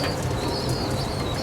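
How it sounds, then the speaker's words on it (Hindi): A Kamagar pigeon held in the hand coos softly and continuously at close range, a low rolling murmur with a faint higher tone running through it. "ये कबूतर जो मेरे हाथ में है,"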